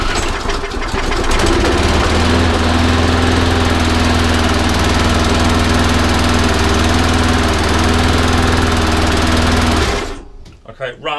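A new, never-used petrol lawn mower starts and runs loudly and steadily at a fast idle for about ten seconds, then cuts out abruptly, leaving faint background sounds.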